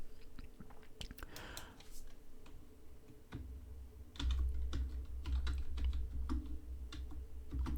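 Keys tapped on a computer keyboard while setting up flight-simulator controls, clicking in quick irregular bursts close to the microphone, alone without talk, with a low hum rising partway through.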